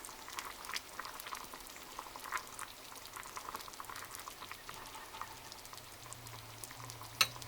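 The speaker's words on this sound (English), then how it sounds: "Okay, this has been simmering for about 2 minutes." Baked beans simmer in a pot, giving a faint, continuous bubbling and popping with soft irregular patter and a small clink near the end.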